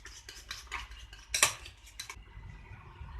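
A spoon whisks a homemade cream mixture made with maida in a bowl. It gives quick, light clinks and scrapes against the dish, with one louder clatter midway. The sound is close and moderately quiet.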